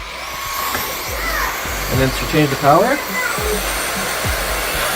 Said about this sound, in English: now we're gonna go and do the actual vacuum test